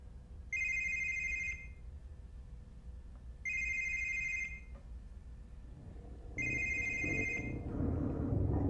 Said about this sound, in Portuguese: Vão tentar ligar pra ela e adivinha quem vai atender o telefone?